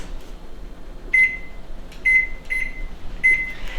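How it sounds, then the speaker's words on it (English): A kitchen timer is set for cookie baking, giving four short, high electronic beeps at uneven intervals over a quiet room hum. "I'll go ahead and set my timer for 12 minutes"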